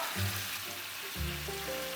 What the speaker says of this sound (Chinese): 这个虾这么直接煎，有一股奶油的香味儿